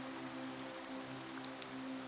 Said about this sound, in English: fresh rain falling on spring blossoms